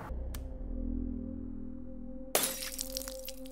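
Glass shatters sharply and loudly near the end, a single crash with ringing fragments that cut through a steady low hum, with no voices heard.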